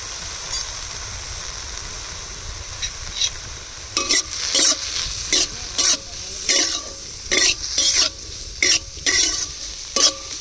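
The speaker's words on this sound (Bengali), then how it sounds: "এবার চিংড়ি মাছগুলো ভেজে নেব। লবণ, হলুদ দিয়ে দেবো।" Prawns frying in hot oil with salt and turmeric in a Bengali kitchen, a steady sizzle under a run of regular stirring scrapes that start a few seconds in and repeat about every half second.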